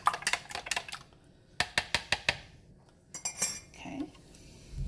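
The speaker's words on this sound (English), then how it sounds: "then I whip it. That'll create fluffiness." Eggs whipped in a bowl for a keto bacon breakfast burrito: quick bursts of rhythmic clinking and tapping from the utensil against the bowl, fairly close and crisp, with short pauses between bursts and no talking.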